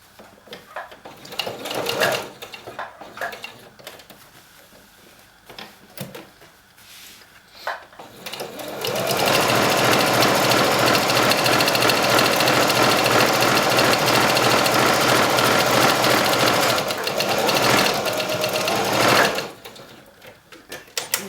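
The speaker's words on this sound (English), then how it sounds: "I'm just going to sew to this point here, since I started at this point here." A sewing machine runs steadily for about ten seconds while stitching a fabric placemat, loud and close, framed by quieter handling noises before and after.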